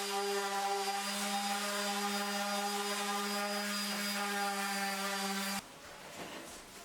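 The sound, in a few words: power sanding of live edge wooden dining table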